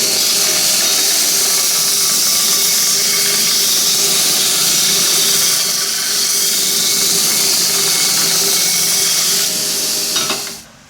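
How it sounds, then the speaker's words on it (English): A belt grinder grinds down the lettered surface of a brass casting, giving a loud, steady abrasive hiss and whine that runs continuously for about ten seconds before spinning down. "I've belt grinded that to remove the surface of the lettering"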